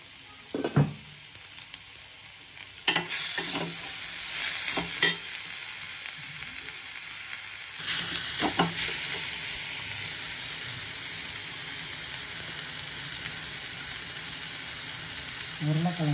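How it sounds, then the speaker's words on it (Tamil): Tomatoes with a pinch of salt sizzle and fry in a pan while cooking for palak and potato, a steady frying hiss broken by a few sharp stirring scrapes and clinks. "தக்காளி போட்டு கொஞ்சம் நல்லா வேக வைக்கணும், நசிய வைக்கணும்."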